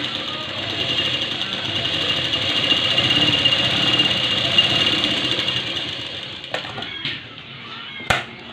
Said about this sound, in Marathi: ही पट्टी अशी फोल्ड करायची आणि याच्यावर दाब शिलाई मारून घ्यायची